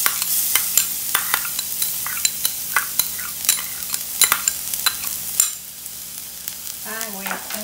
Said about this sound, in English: let's saute the garlic